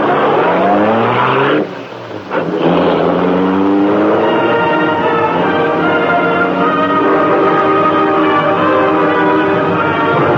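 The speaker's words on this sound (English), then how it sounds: "The great car roared into life." The Black Beauty, a great car in a radio drama, roaring to life, its engine revving hard in a loud, sustained howl, with a brief dip and a tire squeal before it speeds away at full power.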